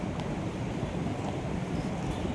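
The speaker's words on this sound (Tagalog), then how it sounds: "ang lakas ng hangin" Strong wind in Kowloon Park, Hong Kong, roars as a steady, dense rush of blustery noise buffeting the microphone, with no pauses and no voices.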